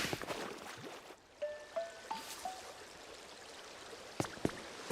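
Water trickles and streams steadily from a busted-open water block in Pokemon Pokopia, a soft continuous flow dotted with short chiming game tones and a couple of sharp splashy pops near the end.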